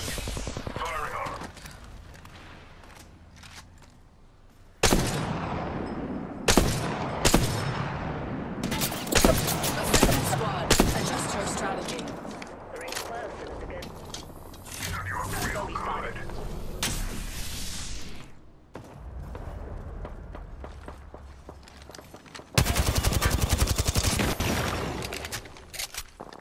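Gunfire in the online shooter game Apex Legends comes as repeated rapid bursts and scattered single shots with heavy thuds. The shots are loud and close, broken by quieter gaps, and a voice speaks intermittently over the combat.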